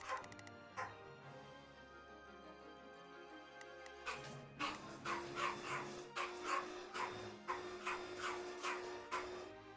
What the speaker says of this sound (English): I think it's all dog barking.